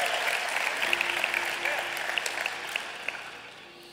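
Applause from a church audience fills the room steadily for several seconds, with scattered individual claps and a faint voice or two over it, fading slightly toward the end.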